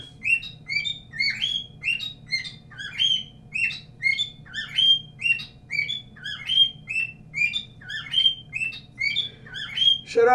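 Close, rapid chirping from a pet bird runs in an even stream of short, shrill calls over a low background hum, ending with a sharper squawk.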